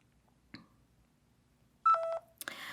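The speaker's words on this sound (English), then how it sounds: "in a few seconds, you're going to hear a little beep sound" After a soft click, a short electronic beep sounds, then a second lower tone follows in quick succession before a burst of noise.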